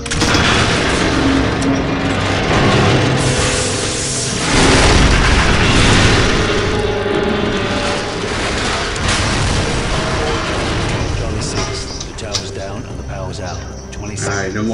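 A loud in-game explosion from Call of Duty 4: Modern Warfare blows up a skateboard on a multiplayer map, a heavy booming blast with rumbling debris, while a voice talks over the game.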